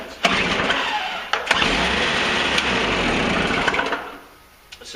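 A Toro CCR snowblower's small engine is pull-started with choke on and primed, catching into a loud, steady running roar for several seconds before cutting out and dying near the end, with sharp recoil pulls at the start.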